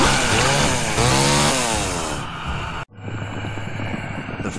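Revving chainsaw from the video game Evil Dead Regeneration, loud and continuous with rising and falling engine pitch, then cutting off abruptly into a quieter rumbling hum with a thin high whine.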